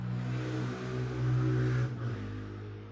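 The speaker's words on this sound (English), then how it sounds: "There's very loud vehicles in Hawaii that I'm figuring out" A loud car engine revs on a street in Hawaii, a low steady roar that swells and holds for a couple of seconds, then eases slightly as the vehicle passes by.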